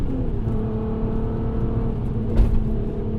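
A Mk4 Golf R32 drives along, its engine a steady low hum and drone heard from inside the car, with a brief louder swell near the end. No one speaks.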